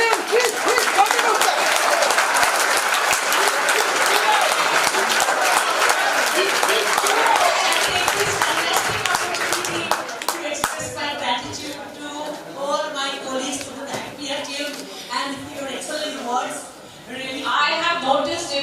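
Loud, sustained applause from a large audience at a college cultural program fills the first half, then fades out as a voice starts talking.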